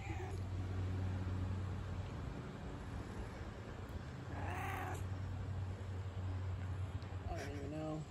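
Cat meows close by, a few short rising calls over a steady low background hum, while a person speaks softly.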